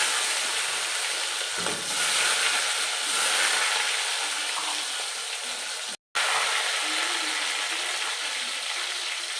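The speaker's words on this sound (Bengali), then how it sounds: "তেল গরম হয়ে গেছে, এবার প্রথমে দিয়ে দেবো হলো টমেটো কুচিগুলো" Chopped tomatoes hit hot oil already seasoned with whole cumin, giving a loud, steady broadband sizzle that runs the whole length, with a brief cut partway through and no talking.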